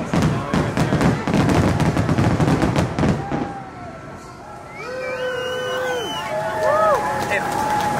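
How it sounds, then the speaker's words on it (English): A rapid crackling barrage of fireworks bursts for a few seconds at a theme park, then fades into chatter and whistling tones from a crowd nearby. "Fireworks indeed"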